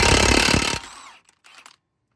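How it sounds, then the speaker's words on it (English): Axle nuts coming off a 2006–2011 Hyundai Accent, a short loud burst of a power impact tool at close range that stops abruptly, followed by a few faint clinks. "I'm just gonna pop out the axle nuts."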